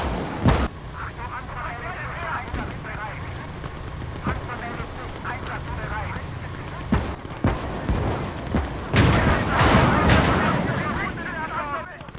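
Anti-tank guns in the World War II game Gates of Hell fire sharp, booming shots at irregular intervals over a rumbling battlefield bed, with a denser burst of blasts near the end.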